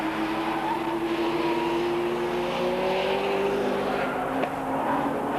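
Porsche 944 race cars in a 1989 Porsche Club championship race roar past with a steady, loud engine drone and rising pitch, continuous and close for several seconds, with no talk over it.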